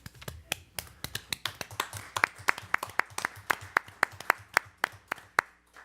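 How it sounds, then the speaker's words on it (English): Steady, evenly spaced claps ring out at a city council meeting honoring a retiring staff member, sharp individual hand strikes at a moderate distance with little talk underneath. "are we clapping because you are retiring"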